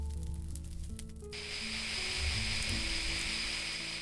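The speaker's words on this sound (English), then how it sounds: "If you load it with water, it will put the fires out very quickly indeed." In a video game, a chemical thrower loaded with water douses fires: after a short quiet stretch, a loud, steady hissing spray begins abruptly and sizzles on to the end, with some faint background tones.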